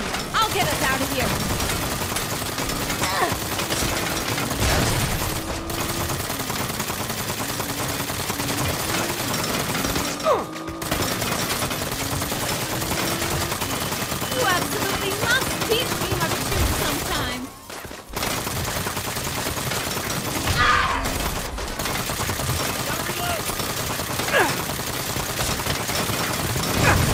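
Gunfire from a Saints Row video game shootout, dense continuous bursts of automatic weapon fire that rattle nonstop, loud and close, with brief pauses and talk mixed in.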